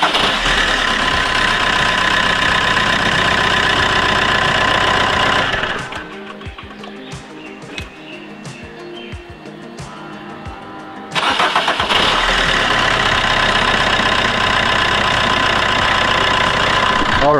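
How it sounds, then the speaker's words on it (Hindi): A car engine running loud and steady at idle after starting, broken by a quieter stretch of several seconds in the middle before the full engine roar returns, with no talk. "the car has been started"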